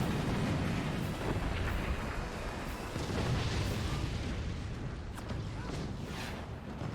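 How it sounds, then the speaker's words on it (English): Cannon and howitzer fire in a video game battle, a dense continuous wall of booming blasts and rumbling detonations that stays loud and steady throughout, with no talk. "Standard cannons firing at close cannon supports the howitzer position."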